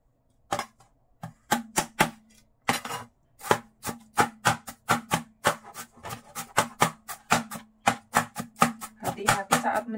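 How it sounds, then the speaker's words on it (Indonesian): A sharp knife chops food on a board during Chinese New Year baking prep, with a quick, steady run of close, crisp strikes and short pauses, heard alone. "Hati-hati saat mencincang ya teman-teman, pisau tajam."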